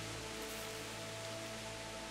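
Steady rain in the medieval role-playing game Kingdom Come: Deliverance, a soft continuous hiss of falling drops with a faint low hum beneath, even and unbroken throughout.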